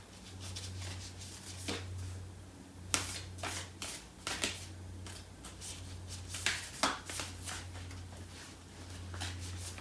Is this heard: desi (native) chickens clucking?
no